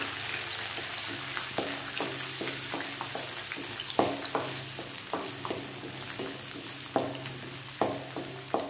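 Curry leaves frying in hot oil for a garlic curry make a steady crackling sizzle up close, with a spoon repeatedly tapping and scraping the pan in an uneven rhythm.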